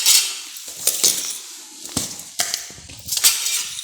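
Metal spoon clinks against a pot while salt is added to a mango curry, several sharp separate taps spread over a few seconds, close and fairly clear with no talk.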